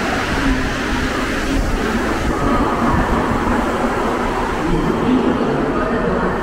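A Montreal metro train runs with a loud, continuous rumble and rolling roar from inside the open-gangway carriage, holding steady throughout, with a voice talking faintly under the noise.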